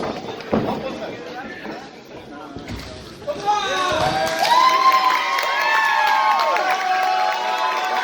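A wrestling crowd cheers and shouts, starting as scattered noise with sharp thuds and then swelling into loud, sustained whistling and yelling from the arena audience.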